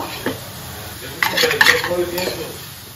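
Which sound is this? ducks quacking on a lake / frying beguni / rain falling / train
frying beguni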